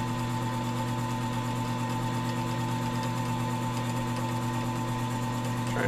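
A pen turning lathe spins steadily as polish is pressed onto the turning pen, producing a constant, fairly quiet motor hum and whine with no talking.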